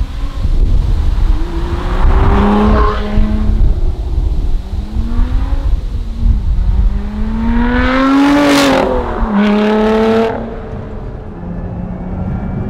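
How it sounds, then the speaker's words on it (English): A Lotus Emira sports car driving on a country road, its engine rising and falling through several gear changes with a loud revving surge near the end, close and dominant, with a wind rush underneath. "So first of all, driving the Lotus Emira on our section of roads."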